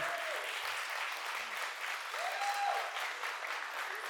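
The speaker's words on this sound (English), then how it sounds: "give them a nice round of applause" Wedding guests applaud at a reception, a steady wash of many hands clapping, fairly distant and even, with a few faint voices calling out above it.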